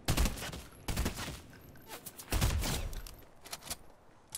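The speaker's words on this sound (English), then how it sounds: "I hear the gunshots coming from over there" Bursts of gunfire in the Fortnite video game, several loud volleys close together with a heavier cluster midway, with no talk over them.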